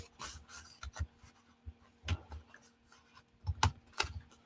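Poor-quality scissors trim a handmade gecko sculpture in a handful of short, separate snips and rubs, close and quiet against a near-silent room.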